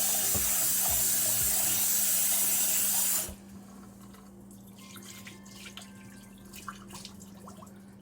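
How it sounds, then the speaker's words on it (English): Salted mackerel rinsed under a running tap in a sink: a steady, loud rush of water for about three seconds, then it stops and only faint drips and small splashes remain. "Just rinse the mackerel twice."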